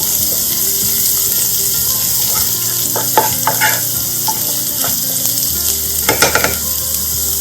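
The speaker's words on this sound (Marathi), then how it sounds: "एक 1 मिनिट परतून घ्यायचं कारण हे छान मिक्स व्हायला पाहिजे म्हणून" Egg keema sautés in a pan with a steady, loud sizzle throughout, while occasional stirring scrapes and light clinks rise above the frying.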